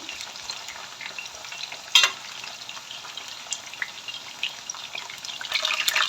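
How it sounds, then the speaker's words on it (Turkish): Steady sizzling of peppers frying in a pan, with occasional stirring scrapes and a brief louder clatter, no voices. "Şimdi biberlerimi kızartıyorum."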